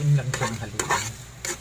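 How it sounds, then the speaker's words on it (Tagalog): Food frying in a pan as it is stirred, soft sizzling broken by a few brisk scraping strokes of a spoon, close and brief with no talking. "Haluin lang siya ng haluin."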